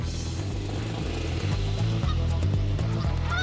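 A flock of geese honks continuously, many overlapping calls over a steady low hum, loud and busy throughout.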